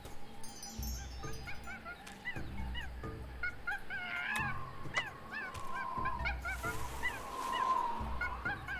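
Warthog grunts and squeals in a noisy jungle from the game Tales of Monkey Island, repeated honking calls over a looping rhythmic ambient bed, fairly clear and moderately loud.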